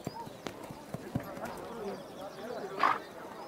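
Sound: horse hooves clip-clopping, young stallion

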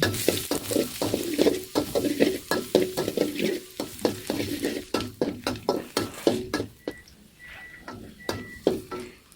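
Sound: garlic frying and stirred in a pan

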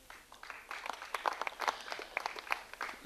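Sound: audience applause for musicians

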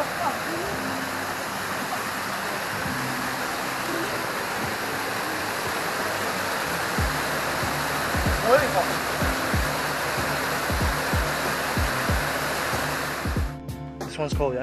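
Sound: river water flowing

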